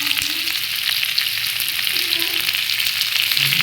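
Capsicum sizzles steadily in hot oil with spices in a kadhai for homemade kadhai paneer, a dense continuous crackle with faint stirring scrapes, close and unbroken, no talking.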